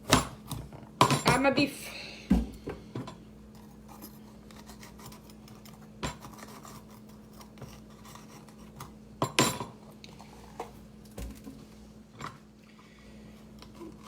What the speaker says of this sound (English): I'm gonna stir my onion and tomato sauce